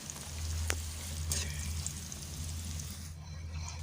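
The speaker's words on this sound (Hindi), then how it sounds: "अब दूसरी भी फ्राई कर लेते हैं इसी तरह।" Leftover roti pieces fry in hot oil as chips, giving a steady soft sizzle with a low hum and a couple of brief clinks, fairly quiet and without talk.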